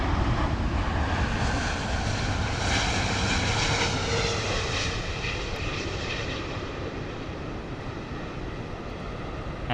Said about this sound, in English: Lovely touchdown there from the British Airways A350